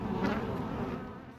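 A swarm of bees living in a hole in the back wall of a Houston-area house makes a dense, steady buzz, close and continuous, fading slightly toward the end, with no voices.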